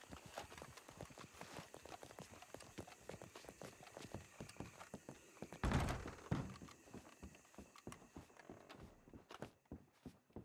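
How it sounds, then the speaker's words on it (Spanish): Horse hooves clip-clop steadily in a video game, a dense patter of quiet footfalls with a brief louder thud midway, heard faintly at a distance with no talk. "Muchos caballos."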